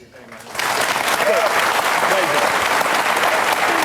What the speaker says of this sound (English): if you're going to clap, keep it brief